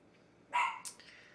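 A three-month-old puppy gives a short, sharp bark followed by a brief yip, loud and close against a quiet background.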